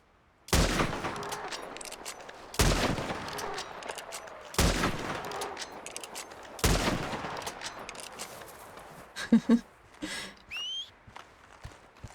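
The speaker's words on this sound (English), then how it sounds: "Four shots to take down the legendary bison." Four loud, sharp rifle shots ring out a couple of seconds apart while hunting a legendary bison in Red Dead Redemption 2, followed by rustling movement, footsteps and a few small clicks.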